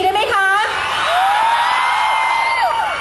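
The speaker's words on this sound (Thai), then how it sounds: "ไหนขอเสียงกรี๊ดดังๆอีกสักทีได้ไหมคะ" Concert crowd at a live music festival in Bangkok letting out loud screams and whoops, a sustained high-pitched roar from many voices in a large audience.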